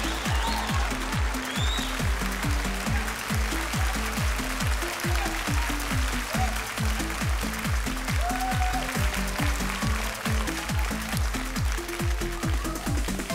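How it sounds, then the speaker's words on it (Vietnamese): An audience at a beauty pageant swimsuit round in Las Vegas applauds the contestants, a steady, broad patter of clapping running throughout beneath a pounding, rhythmic music beat. "Một tràng vỗ tay để chào đón số báo danh 13 Sammy Cantu"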